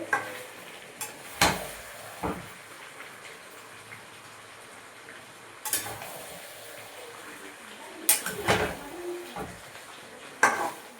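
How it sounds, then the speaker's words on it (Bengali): Meat browns in oil it has released in a home cooking pot, giving a soft steady sizzle broken by a few sharp scrapes and clanks of a spoon against the pan, with no talking. "দেখো বন্ধুরা মাংসটা এভাবে কষাতে হবে মাংস তেলটা দেখো ছেড়ে দিয়েছে"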